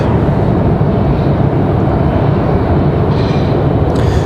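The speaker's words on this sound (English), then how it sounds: "So that American got out of here already. That one's headed out to Miami. American Airlines 1916. That was a 737-800." An American Airlines Boeing 737-800 jet departing the airport, a loud, steady broadband engine roar filling the whole stretch without letup, no voices over it.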